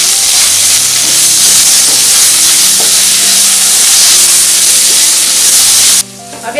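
Ginger and garlic paste sizzles and hisses loudly in a hot pan as it is stirred, with a dense steady crackle that cuts off abruptly near the end.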